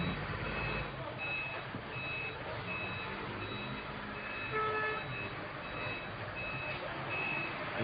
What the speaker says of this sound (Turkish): Cenaze arabası.